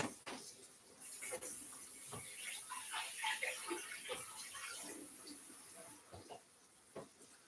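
Tap water runs steadily over a raw pork chop being rinsed, a continuous close hiss and splash with small irregular spatters throughout.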